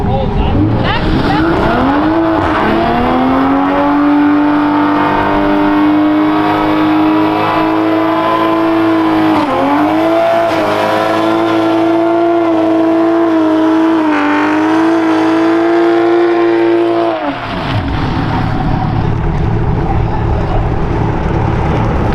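A Toyota MK5 Supra performs a burnout, its engine screaming at a high, sustained rev with wavering pitch for about fifteen seconds before cutting off abruptly, loud and close, with people talking over it.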